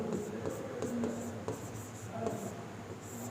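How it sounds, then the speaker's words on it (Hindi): A pen scratches steadily across paper as a place name is handwritten on a Bihar map, producing soft repeated strokes and short scribbles, close and fairly quiet, with no talking. "यहाँ पे लिख देते हैं भागलपुर"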